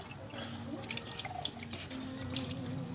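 Tap water runs steadily into a sink while dishes are washed, a close, continuous splashing stream with small clinks and drips over it.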